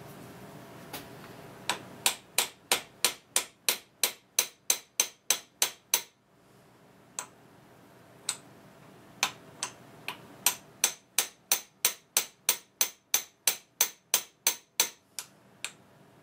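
A hammer peens a lathe apron part clamped in a vise, crisp metallic taps in quick even bursts, close and clear, with a short break between two runs of blows.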